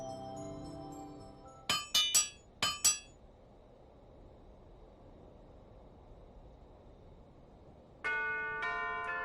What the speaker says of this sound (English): Well, it certainly sounds like a bell now, doesn't it?